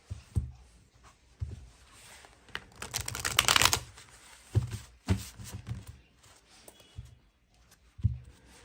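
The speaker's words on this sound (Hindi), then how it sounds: "चलिए इस डेक से भी हम कुछ कार्ड्स लेंगे।" Tarot cards being drawn and handled from a deck during a reading, giving soft papery slides and light taps that come in short scattered bursts, with one denser shuffling rustle partway through, close and fairly quiet.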